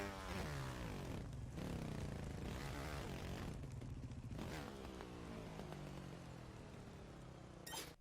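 A motorbike engine in the Trials Rising game revs under throttle, a buzzing, rising and falling whine with brief dips between bursts, fairly loud and continuous without speech.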